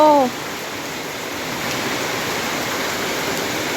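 Heavy rain pours during a storm in Laos, a loud, unbroken roar of falling water that runs throughout, after a brief voice sounds at the very start.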